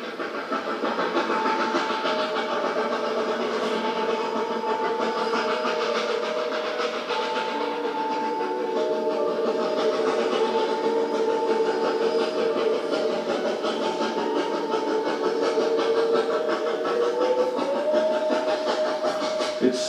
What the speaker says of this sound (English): Narrow gauge railroading in the silvery San Juan winter.